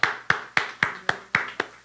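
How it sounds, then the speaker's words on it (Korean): Rhythmic clapping from a church congregation at a Wednesday worship service, eight sharp, evenly spaced claps in unison at a brisk steady beat, close and clear with no talk. "우리 하나님께 영광의 박수 드리겠습니다"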